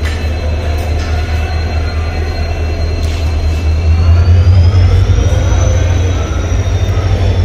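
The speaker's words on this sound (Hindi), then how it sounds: "ये है दोस्तों ट्रेन, काठगोदाम हल्द्वानी जाएगी जैसलमेर से आते हुए" The Ranikhet Express, running from Jaisalmer to Kathgodam, pulls into Rampur railway station with a loud, continuous rumble. Drawn-out wheel squeals rise and fall over the rumble while a voice speaks faintly beneath it.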